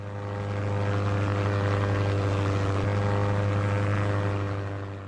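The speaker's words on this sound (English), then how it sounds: "we heard a small plane overhead" A small search and rescue plane drones steadily overhead in the Labrador wilderness, its propeller engine a continuous loud hum that swells slightly and then eases, with no voices.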